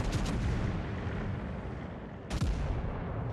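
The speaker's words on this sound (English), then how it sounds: "I might just be shooting HE out of my battleships" Heavy naval gunfire from battleships firing high-explosive shells in a video game, with a loud rumbling boom at the start and another sharp blast around two seconds later, over continuous low battle rumble.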